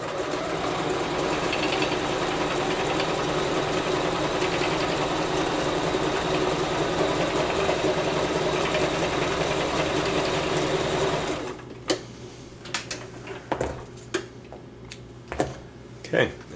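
A sewing machine runs steadily, stitching the body seam of a handmade fabric puppet, a dense continuous whir for about eleven seconds before stopping abruptly, followed by a few quiet clicks and handling sounds.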